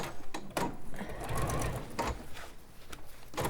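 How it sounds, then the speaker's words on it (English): Sewing machine stitching along a fabric strip, running close and steady through most of the clip, with short stops at the start and the end. "So I'll just quickly sew that on"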